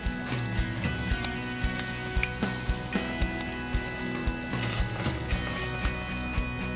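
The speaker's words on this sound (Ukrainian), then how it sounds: "Я візьму пензлик трошки олії, змазати решітку" A brush slathers oil across a hot grill grate, giving steady sizzling with soft wet dabs and light clicks of bristles on metal, close and fairly quiet.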